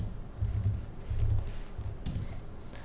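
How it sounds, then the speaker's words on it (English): A command typed on a computer keyboard at a command line: a few short runs of close, clicky keystrokes over a low background hum, with no talking. "Now I type a command mdb init"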